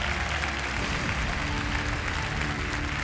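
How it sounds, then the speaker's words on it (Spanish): Studio audience applauding and cheering in an ovation at The Voice Chile singing competition battle round, a dense, steady wash of clapping held at even loudness throughout with faint crowd voices mixed in. "Váyase con este aplauso y esta ovación"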